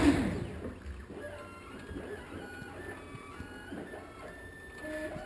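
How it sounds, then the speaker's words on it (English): A CNC router running in the air without cutting, its stepper motors whining in shifting tones as the axes move, steady and moderately close. "I will run it in the air for you for a second, just to show you how the router and the software work together"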